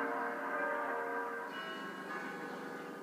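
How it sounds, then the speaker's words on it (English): Church bells peal in the United States to greet the election of Pope Francis, a dense, steady ringing of several overlapping bells with sustained tones, fairly loud and continuous throughout, with no talk. "U.S. Catholics greeted the election of Pope Francis I with bells"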